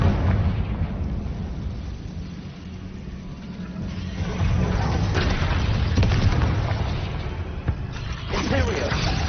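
Confringo blasting spell explosions in a Harry Potter video game, a series of loud booming blasts over a continuous roaring background, with a voice calling out over the action.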